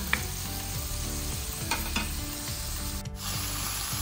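Steak with a splash of water cooking in a pan as the base for Filipino pancit, a steady close sizzle and bubbling with scattered spatula scrapes and clinks throughout, no talking.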